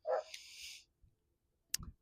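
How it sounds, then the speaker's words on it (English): A dog gives a short yip-like bark, followed by a faint hiss and a couple of soft clicks and thumps, all quiet with long near-silent gaps. "There's a dog barking."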